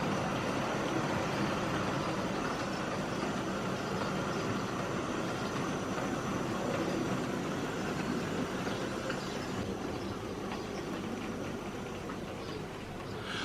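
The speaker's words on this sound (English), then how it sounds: "As our coal train passes by" A steady, low rumbling clatter of a model train rolling past, continuous and fairly quiet with no voices.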